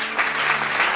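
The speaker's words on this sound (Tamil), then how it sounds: "கைத்தட்டுங்க ஒரு தவறுக்கு." A church congregation clapping together, a dense, steady wash of applause at moderate level, with faint swells and a low hum underneath.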